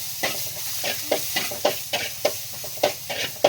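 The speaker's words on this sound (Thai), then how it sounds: "ผัด กระเทียมก่อน" Garlic stir-fried in a hot pan, a steady sizzle broken by regular scraping strokes of a spatula, close and clear with no talking.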